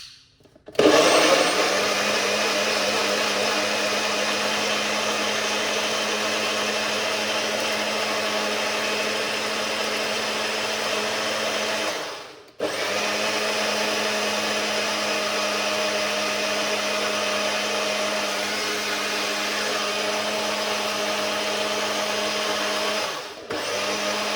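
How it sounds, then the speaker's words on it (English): A blender whirs loudly and steadily as it blends a strawberry smoothie, a continuous high-speed roar that cuts off briefly around the midpoint, then restarts and runs on. "Let's blend and make some noise."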